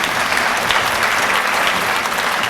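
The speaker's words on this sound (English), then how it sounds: "Please give him a round of applause." Audience applause for a congressman at a career and technical education symposium, a dense, steady roar of many hands clapping from a large crowd, loud and continuous throughout.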